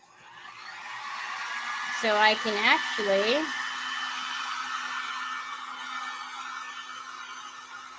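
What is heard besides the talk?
dryer used on a craft project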